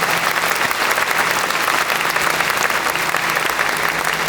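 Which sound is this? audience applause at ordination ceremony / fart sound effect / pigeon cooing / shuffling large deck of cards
audience applause at ordination ceremony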